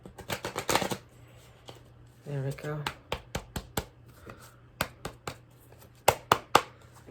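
Tarot cards riffled and tapped in a quick flurry, then a series of sharp single taps and knocks, with a brief spoken phrase partway through.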